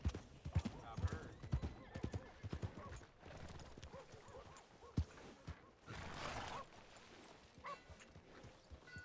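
A horse's hooves clip-clop in Red Dead Redemption 2, with uneven hoofbeats in the opening seconds, a brief snort and whinny, creaking tack and faint background game sounds, all fairly quiet.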